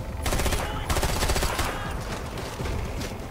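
Rapid gunfire bursts from a first-person shooter, Far Cry 4, crack out loud and close in quick succession, filling the whole moment with sharp repeated shots.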